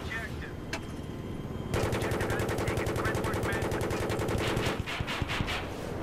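Gunfire in Battlefield 3, with a sharp shot early on, then a sustained loud burst of rapid cannon fire from a jet lasting about three seconds and a few trailing shots.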